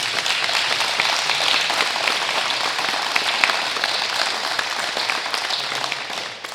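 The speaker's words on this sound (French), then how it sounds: "je vous demande d'applaudir leur investissement et leur travail au sein de notre collectivité" Audience at a 2020 New Year's greetings ceremony in Cocumont applauds retiring municipal councillors, a sustained dense round of clapping that stays loud and even throughout before tapering slightly at the very end.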